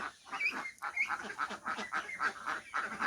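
A flock of farm-raised ducks, bought as ducklings, keeps up rapid, overlapping nasal quacks and honking calls in a steady uneven rhythm, fairly close, with no talking.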